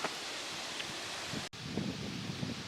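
Wind blows outdoors as a pallet shed gets its roof, a steady broadband rush with faint rustling, briefly cutting out midway before resuming at the same level.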